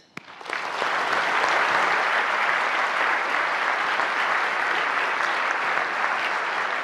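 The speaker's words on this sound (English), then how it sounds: "Please join me in giving a warm, big round of applause for Libby Gill." Audience applause for speaker Libby Gill at a leadership talk, a dense, steady wash of many hands clapping that swells up quickly and holds loud and even throughout.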